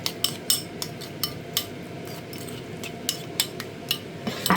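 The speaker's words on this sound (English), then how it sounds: "So I'm just going to stir what's on the hob." Utensil stirring food in a pan on a kitchen hob, a series of short scraping clinks repeating at an irregular, quick rhythm over a steady low sizzling bed, fairly close and moderately quiet.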